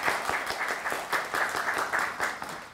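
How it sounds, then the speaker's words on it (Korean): Audience at a Gwangju social workers' association election debate breaks into applause, a dense wash of clapping that holds steady for a few seconds before tapering slightly. "중간에 박수 한번 부탁드리겠습니다."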